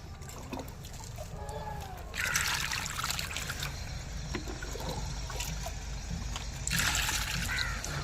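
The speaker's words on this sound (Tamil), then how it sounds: "ஃபுல்லாக தண்ணி நிரப்பிட்டு காட்டுறேன்." Water pours and splashes into a potted hardy water lily container, a steady close trickle that swells into louder gushing bursts twice, with no one talking.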